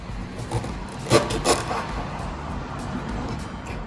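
A knife cuts washed ginger into small pieces on a board for grinding into a buttermilk drink, making a few soft, close woody taps and scrapes that are clearest in the middle, with no talk.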